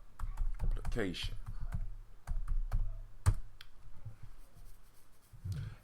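Keys tapped on a phone dictionary app to enter a single word, a run of quick close taps and clicks with a voice talking over part of it.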